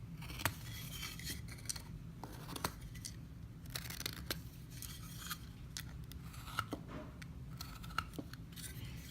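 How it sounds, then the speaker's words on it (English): A handheld deburring tool scraping along the sharp bottom edge of a 3D-printed plastic mini-trophy, with faint, close scratches and small ticks at an irregular rhythm over a quiet background. "I just go along with this deburring tool,"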